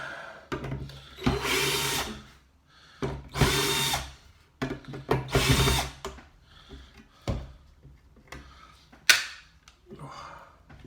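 A power drill drives screws into a perspex sheet on a holly sign. There are several loud, close whirring bursts, each a second or so long, with short gaps and small clicks between them.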